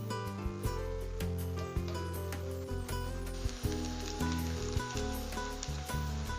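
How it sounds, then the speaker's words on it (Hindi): Onions frying in a spoonful of ghee, a continuous crackling sizzle close up with scattered sharp pops and occasional stirring clicks. "सबसे पहले मैं 1 बड़ी चम्मच घी डालूंगा और इसमें अपने प्याज गोल्डन ब्राउन करूंगा"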